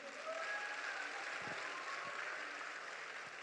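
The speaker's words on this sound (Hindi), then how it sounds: "आइए एक बार आप जोरदार ताली बजा के माहौल बना दीजिए" Sustained applause from a crowd at a comedy show at the Kanpur Dehat Mahotsav, dense steady clapping filling the space at moderate distance, with faint voices underneath.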